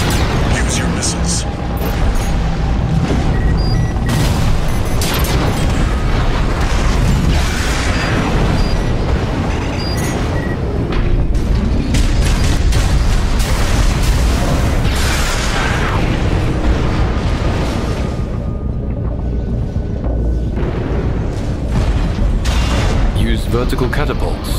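Missile explosions and weapons fire in the mech combat game Armored Core 6: Fires of Rubicon, repeated heavy booms and blasts over a constant rumbling bed, with intermittent voices talking between impacts.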